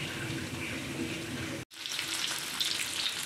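Browned tofu frying in a pan gives a steady, close hiss and sizzle with a brief cut partway through.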